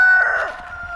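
Backyard chickens resting after their lunch give a loud, close squawking call that fades a little over one second.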